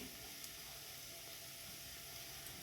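Onions and green chilies fry in oil in a pan for egg fried rice, giving a constant, even hiss of sizzling, fairly faint and uninterrupted throughout.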